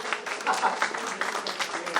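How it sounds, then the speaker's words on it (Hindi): An audience claps for a young participant at a motivational talk, a brief, fairly faint patter of applause mixed with voices. "मयंक के लिए प्लीज ताली बजाइए भाई"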